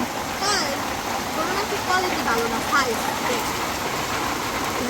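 Continuous rain patters and hisses in a steady wash while people talk over it.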